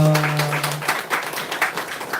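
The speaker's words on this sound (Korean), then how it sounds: "한 번 더 박수하겠습니다." A church congregation at a Sunday Thanksgiving service claps together, a dense burst of applause close by that rises and rolls on with uneven surges, following a brief held tone at the start.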